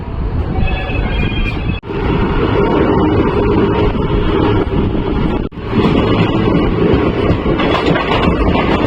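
A passenger special train from Delhi to Prayagraj runs at moderate speed approaching Subedarganj, giving a steady, loud rumble of wheels and carriage with wind noise throughout, broken by two brief dips.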